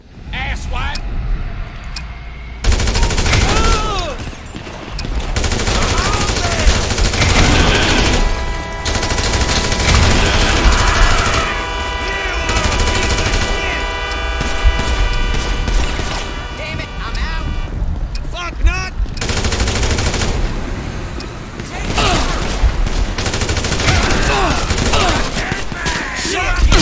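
Gunfire erupts in the game GTA 5, loud volleys of shots rattling through most of the stretch amid wind-like noise and frantic shouting voices.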